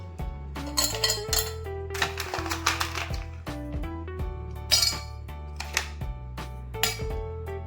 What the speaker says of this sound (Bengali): গ্লাসে আইস কিউব দিয়ে দিচ্ছি।